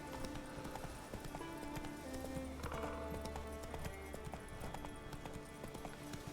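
Horse hooves galloping in The Witcher 3 video game, a steady rapid clip-clop over a constant background of ambient game music and noise.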